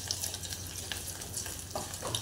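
A tempering of mustard seeds, cumin, curry leaves and garlic sizzles steadily in hot oil, a soft continuous crackle with light stirring scrapes, alone without talk.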